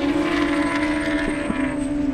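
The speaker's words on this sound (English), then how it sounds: "You can hear the turbo whine all the way from here." A turbocharged Suzuki Hayabusa drag racing motorcycle runs at an airstrip drag event, its steady high-pitched turbo whine droning continuously and fairly loud, with a broad mechanical roar underneath.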